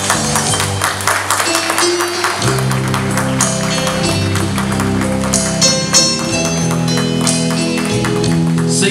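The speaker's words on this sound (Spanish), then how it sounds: "Fuerte los aplausos." A quinceañera crowd applauds steadily as guests are welcomed in, the clapping blended with loud continuous music throughout.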